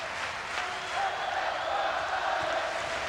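Hockey crowd at a 1993-94 IHL Turner Cup Finals game in Fort Wayne, cheering steadily for the home Comets; a sustained, even roar of many voices from across the arena under faint background talk.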